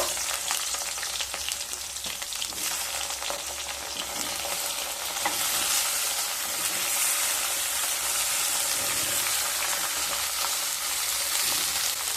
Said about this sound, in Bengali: এবার ওই নিম পাতা ভাজা তেলের মধ্যে বেগুনগুলো দিয়ে দেব।